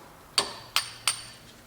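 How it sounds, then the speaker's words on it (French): A hammer strikes a pin punch three times at an even pace to drive a bolt out of a car's suspension. Each blow is a sharp metallic clink with a short ringing tail, close and distinct against a quiet background. "chasse-goupille, marteau."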